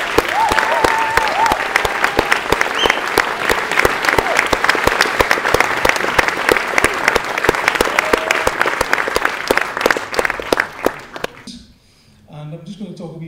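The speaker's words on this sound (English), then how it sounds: "would you please give Mr. Alan Turney, who is our adjudicator for today, a nice Northern Ireland applause" Sustained audience applause for the adjudicator at a Northern Ireland brass band contest: dense, steady clapping from a large crowd that fills the room for about eleven seconds, then fades out, leaving a moment of near quiet.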